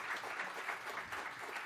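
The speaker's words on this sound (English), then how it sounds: "How about another round of applause for our panelists?" An evening event audience applauds its panelists with brief, even clapping that is soft and dense throughout.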